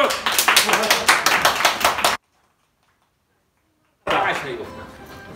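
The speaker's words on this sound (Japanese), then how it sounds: "拍手" A burst of hand clapping from a small group after a book presentation at a bibliobattle event, lasting a couple of seconds, then silence before more clapping resumes and fades.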